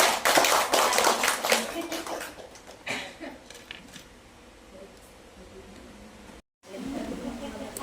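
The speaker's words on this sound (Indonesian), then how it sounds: "Beri tepuk tangan teman-teman." An audience at an indoor school teachers' program gives a burst of sharp, fairly close clapping for a few seconds. It then thins to scattered taps and quiet room sound before a brief cut.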